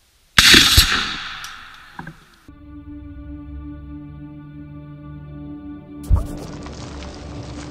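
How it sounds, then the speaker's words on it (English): A rocket-propelled knife fires with a sudden loud whooshing blast, then hits spray cans and acrylics with sharp impacts, followed by a long ringing metallic hum and another loud bang, no talking. "this is rocket knife art in 3, 2, 1, go!"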